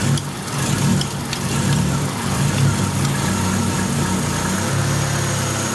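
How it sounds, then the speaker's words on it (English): A car engine idles unevenly and rough, nearly stalling, during an EGR valve test, with a low, steady rumble and slight vibration, running continuously without any voices. "we're going to listen for the RPM to get real rough"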